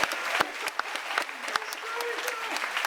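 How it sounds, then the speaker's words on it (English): A live audience gives a round of applause, with scattered sharp individual claps standing out over a softer crowd wash and a voice faintly audible underneath. "Let's give him a nice round of applause right there."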